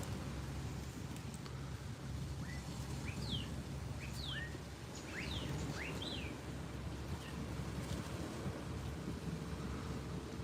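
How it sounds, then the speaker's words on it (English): Several short, high rising and falling calls from a Yucatan jay sound at middle distance over steady wind and rumbling ambient noise in Playa del Carmen, Mexico, clustered together in a few seconds. "is that the Yucatan jay bird that makes that noise?"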